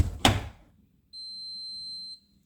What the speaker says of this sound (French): Il bip une seule fois, cette fois-ci pour me dire, c'est bon, c'est ok, je lave.